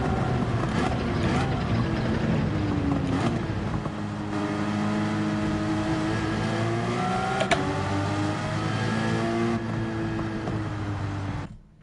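Two Porsche Cayman race cars in the Gran Turismo 7 racing game rev and accelerate together at a race start, engine tones climbing through gears, loud and close with a brief voice near the start.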